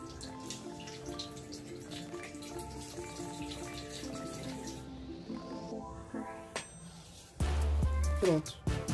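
Running water rinses the washable part of a compact portable draft beer machine, trickling and dripping close by before a louder gush of flow near the end.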